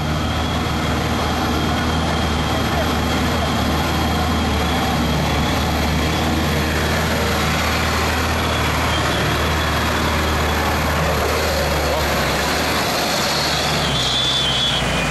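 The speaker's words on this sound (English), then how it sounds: "There goes a restyle shishiga." A restyled GAZ-66 'Shishiga' Soviet military truck drives off-road, its engine a steady, loud, dense drone that holds throughout with no pauses.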